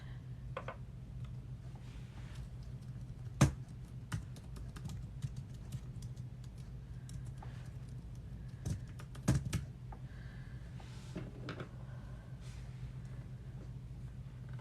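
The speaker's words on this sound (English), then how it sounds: "I'll type it in" Someone types quietly on a computer keyboard, with soft, irregular key taps over a low background hum and a couple of sharper clicks standing out.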